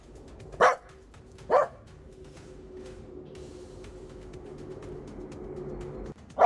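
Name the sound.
dog barking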